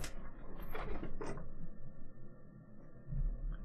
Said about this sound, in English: That is the noise of my computer.